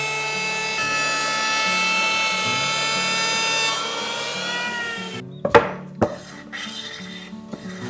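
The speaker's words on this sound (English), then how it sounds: "I use a sharp blade electric planer only as a top surface and press it slowly" A sharp-bladed electric planer is pressed slowly across the top surface of a Japanese cypress board, making a loud, steady, whining motor hum for several seconds, followed by a few knocks and handling bumps.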